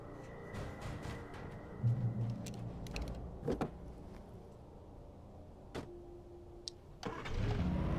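A truck engine in the video game Alan Wake, heard as a mix of mechanical whirs, thumps and clunks, with a low engine rumble swelling near the end.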